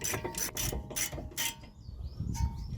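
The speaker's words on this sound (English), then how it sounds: "At the moment I'm just going to do them up with a ratchet." Brake caliper bracket bolts on a Mazda MX5 NC Mk3 tightened with a hand ratchet: rapid bursts of clicking ratchet strokes, close and clear, with pauses between.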